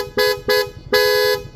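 A loud aftermarket dual-tone Corsa horn on a Yamaha Fazzio scooter sounds two short blasts, then one longer held blast, over a low idling engine.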